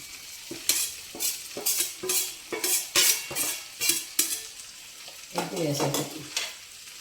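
Fried egg being stirred into an okra curry in a pan: repeated rhythmic scrapes and clinks of a spatula against the pan over a continuous sizzle, close up and without talk.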